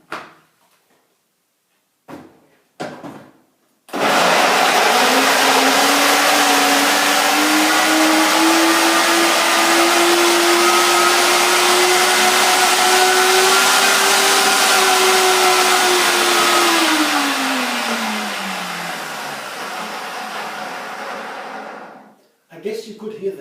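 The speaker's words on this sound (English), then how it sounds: "The sound from the blender went up into higher and higher" A blender blending cashew filling starts abruptly and whirs loudly for about twenty seconds, its motor pitch rising steadily higher before winding down; brief knocks come before it.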